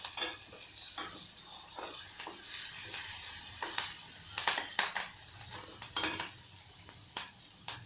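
Curry leaves hit hot oil for khaman rassa, a steady crackling sizzle with sharp spitting pops and occasional clinks of a spoon against the pan, close and continuous without speech.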